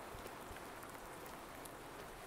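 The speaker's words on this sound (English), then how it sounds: "oh, it's actually raining right now" Steady rain hissing across a Farming Simulator 19 map, Felsbrunn, a soft, even broadband wash with no distinct drops standing out, fairly quiet and unbroken throughout with no talk.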